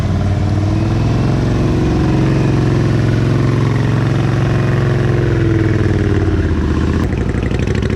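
An Indian Challenger motorcycle engine runs steadily and loudly close by, a continuous throbbing drone holding nearly level for the whole stretch.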